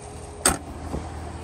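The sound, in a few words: car hood being closed on a 2016 Chevrolet Corvette Stingray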